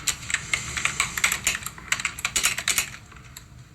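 Rapid typing on a computer keyboard, a close, steady patter of key clicks with brief pauses, heard alone without talk.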